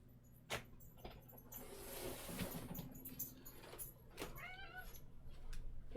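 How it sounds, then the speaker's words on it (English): A cat meows a few times in a quiet indoor room during a livestreamed art session, rising faint calls standing apart from light background rustling. "You can hear the cat now, he's meowing."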